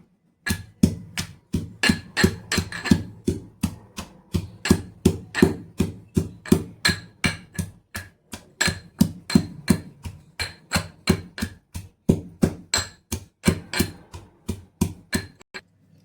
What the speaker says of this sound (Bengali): তো এই যে রসুন, আদা, কাঁচা লঙ্কা এগুলো একটু কেটে নিয়েছি। তো এবারে এগুলো থেতো করে নেব।